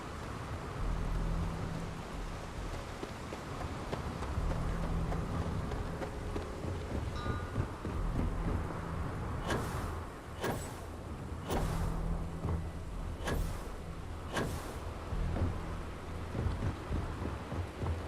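Lightning storm over the city of Neon in the Starfield video game: steady rain and rumbling thunder with several sharp, loud cracks of lightning bunched in the second half, no talking.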